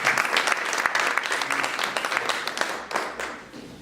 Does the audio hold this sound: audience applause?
yes